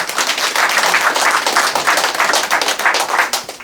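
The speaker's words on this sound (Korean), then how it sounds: "큰 박수" A roomful of people at a literary award ceremony and book launch clapping in a lively, sustained burst of applause, individual claps audible within the dense patter.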